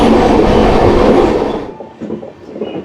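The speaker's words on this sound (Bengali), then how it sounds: "পুরো ট্রেনটাই কিন্তু কার্ভ করছে" The Sairang Express, a long passenger train hauled by diesel engines, rumbles loudly around a curve through hilly country, its dense wheel roar fading abruptly into quieter, irregular clatter.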